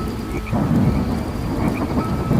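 Heavy rain pours down steadily while low rumbling thunder rolls underneath, loud and continuous throughout.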